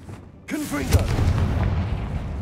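A Confringo fire spell bursts in Hogwarts Legacy, a sudden heavy boom that rolls into a sustained, crackling rumble. A brief voice cuts in at the blast.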